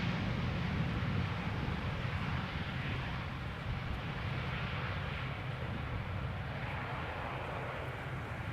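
An Airbus A380 flies past at Amsterdam Schiphol Airport, a steady broad roar of engine noise that holds at a constant loudness throughout, heard from a distance outdoors with some wind.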